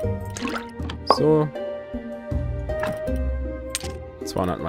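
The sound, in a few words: pouring water in the video game Graveyard Keeper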